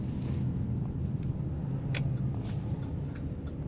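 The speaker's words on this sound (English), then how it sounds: "Today we're driving a very nice 2016 Chevrolet Express van." A 2016 Chevrolet Express raised-roof 9-passenger van driving, a steady low road and engine rumble heard from inside the cabin, with a faint tick and light rattles over the drone.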